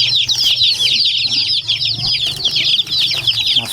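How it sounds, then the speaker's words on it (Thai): A flock of black and red chicks peeps without pause, with many close, overlapping high chirps over a low steady hum and no talking. "ไก่ดำแดงนี่ ไม่ต้องร้อง"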